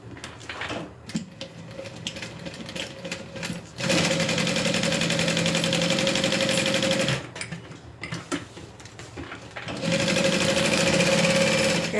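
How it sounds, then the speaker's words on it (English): A sewing machine stitches through stacked backpack layers in loud, steady bursts, running continuously, pausing briefly, then running again at close range with no talk. "we're going to sew all of these layers together so we can take off our clips"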